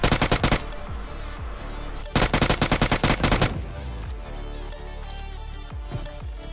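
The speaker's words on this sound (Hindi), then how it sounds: "मैं जैसा फायरिंग करता हूँ वो ब्लास्ट होगा गैस कैन।" Bursts of rapid automatic gunfire with booming gas-can blasts in the mobile battle-royale game PUBG Mobile, loud and close, two heavy volleys separated by a sustained rumbling tail and scattered later shots.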